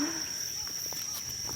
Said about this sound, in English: I hate cicadas.